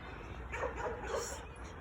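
A dog yips and barks a few times in quick succession at moderate distance, over a low background rumble.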